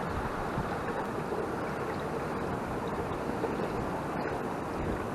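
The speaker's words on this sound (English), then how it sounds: "It's draining straight down the funnel." Steady rushing water from a Suburban hot water tank drains down a funnel, pouring and gurgling continuously at close range, a dense broadband wash with no pauses or voices.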